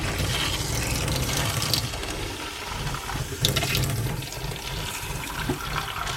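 Pink antifreeze runs from a camper faucet down into the sink drain during winterizing, a loud steady gush of pouring liquid close by that continues throughout.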